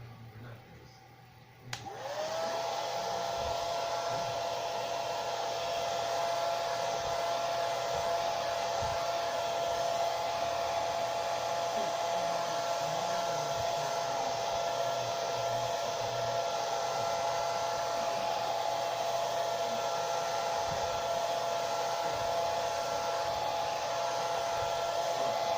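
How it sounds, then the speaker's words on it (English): A hair dryer blows steadily on a rusty nut, switching on early and then running as a continuous, even whoosh with a faint whine for the rest of the stretch. "So I'm going to blow dry it again."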